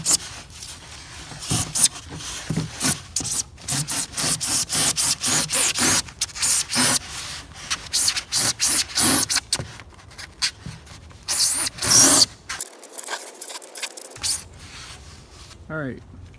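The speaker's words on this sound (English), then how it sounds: "Next, we're gonna try this little Irwin dovetail saw" Small Irwin detail dovetail saw cutting through rigid foam insulation board in quick back-and-forth strokes, each stroke a sharp scratchy rasp, close and fairly loud, with a pause near the end and a voice speaking at times.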